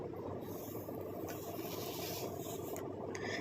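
Roasted ingredients are ground into a fine powder for a homemade natural hair-darkening remedy, giving a steady, close gritty rasping and scraping that runs continuously with no talk.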